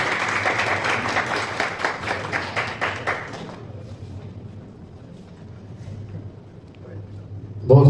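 Crowd applause at a prize-giving ceremony, a few seconds of hearty clapping that fades into murmuring and background talk.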